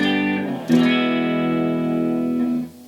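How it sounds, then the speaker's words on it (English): Clean electric guitar tone from a Fender Mustang played into a solid-state Fender Stage 100 amp, a single sustained chord struck once, ringing steadily for about two seconds before being cut off. "This is my clean tone. I'm playing out of a Fender Mustang."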